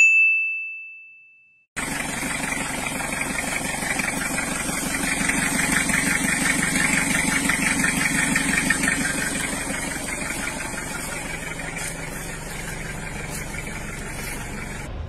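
A Toyota Hilux engine, found in the bush with plants inside and fire damage, runs steadily after a short high ding, with a continuous loud idling drone and faint mechanical clatter throughout.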